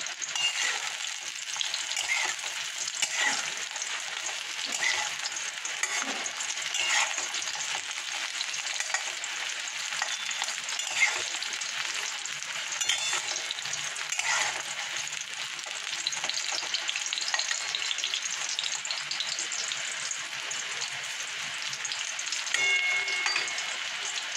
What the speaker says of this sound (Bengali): দেখো কাঁচকলা এক পিঠ ভাজা হয়ে গেছে।